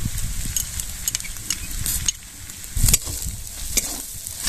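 Spices for a shrimp curry sizzle in a pan, made with chilli powder, turmeric and a little sugar, with repeated stirring scrapes and a close, fairly loud crackle and no talking.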